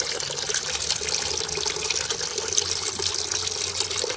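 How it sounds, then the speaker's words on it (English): Fresh apple juice pouring from a cider press as the mash is pressed, a continuous bright trickling flow heard close and fairly loud, unbroken and without talk. "Can you hear the juice?"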